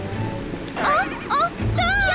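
Steady cartoon rain patters through a children's train animation, with bright character voices talking over it in short bursts.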